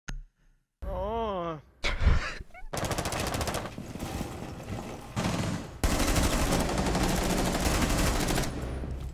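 Sustained rapid fire from Tachanka's mounted machine gun in Rainbow Six Siege, loud and near, dense continuous bursts after a short opening of other game sounds and a groaning voice.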